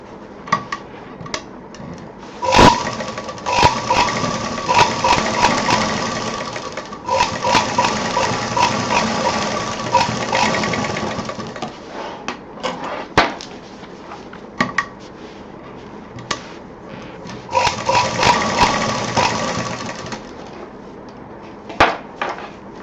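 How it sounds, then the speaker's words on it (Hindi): A sewing machine stitches the side seam of a party wear purse in bursts of rapid mechanical whirring and clatter, stopping and starting with sharp clicks between runs, close and alone. "ये जो हमारा सेंटर वाली लाइन है इसको इधर से मिलाते हुए पहले इसको पूरा हम सिल देंगे"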